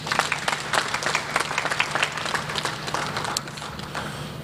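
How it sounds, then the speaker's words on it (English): An audience applauds the President at a live state event on January 20, 2022, a dense, steady wash of many hands clapping at close range that holds for several seconds with no talk over it. "Let's give Your Excellency the President another hand clap."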